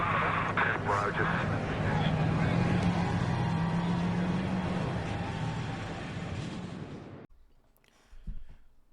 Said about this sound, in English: Let's go trackside for the command to fire engines. Crank them engines!